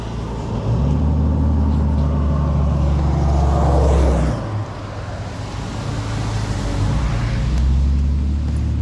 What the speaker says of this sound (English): There's a few cars coming by.